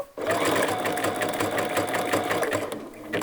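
A sewing machine stitches fabric for a flower appliqué, running steady and loud at an even, fast whirring pace for about three seconds.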